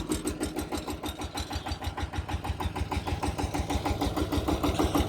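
A VST tractor engine with a trolley attached runs steadily close by, its diesel knock pulsing in a fast, even rhythm for the whole stretch, loud and without any voices.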